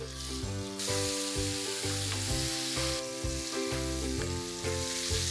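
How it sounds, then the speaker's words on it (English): Steady loud sizzling of chili and asafoetida paste frying in hot oil, a continuous crackling hiss with a harmonic tone running through it. "I'm going to add the paste of chili and asafoetida that we had made earlier. It will sizzle."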